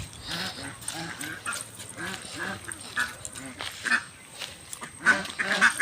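Big ducks quack repeatedly at close range while a dog among them whines and yelps, and a voice talks over the flock.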